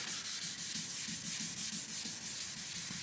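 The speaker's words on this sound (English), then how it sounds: "I'm gonna go ahead and sand some." Rhythmic hand sanding of car clearcoat, a quick back-and-forth scratchy rasp repeating evenly and close, with no talking.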